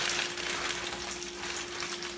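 A piece of fish fries in hot grease with a soft, constant crackling sizzle, a faint, even bubbling sound with nothing else heard over it.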